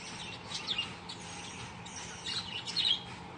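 Hill myna calls ring out as a few sharp, high whistles and squawks, scattered irregularly over a soft, noisy outdoor background.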